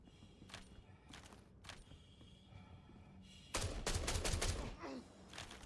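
Gunfire in the video game Star Citizen, several short bursts early on, then a loud sustained volley of close shots near the end.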